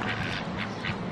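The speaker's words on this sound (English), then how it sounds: "Quack, quack, quack, quack, quack." A duck at a Forest of Dean animal farm quacks in a run of three or four quick, faint calls, close by and alone.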